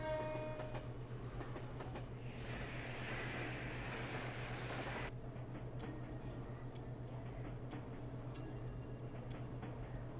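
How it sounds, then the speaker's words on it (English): A train from the Empire passes by in the video game The Legend of Heroes: Trails to Azure, a steady rolling rumble with a low hum and periodic clicks, swelling loudest through the middle before settling back into a continuous drone. "It's coming. A train from the Empire."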